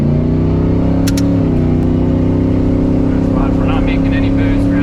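A 1991 turbocharged Chevrolet Silverado pickup pulls through its gears on a rough road, a steady loud engine drone with shifting harmonics heard from inside the cab, with a brief shift change partway through.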